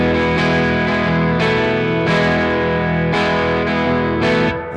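Bright electric guitar on the bridge pickup, pushed through a Level-Or analog-style compression and saturation plugin, plays sustained distorted chords with rhythmic re-strikes about every second, loud and close with no talking.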